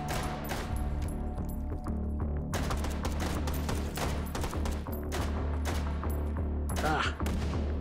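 Pistol fire in the VR shooter Hot Dogs, Horseshoes & Hand Grenades, heard as loud, sharp shots repeating irregularly over a dense game soundscape with music and a constant low rumble.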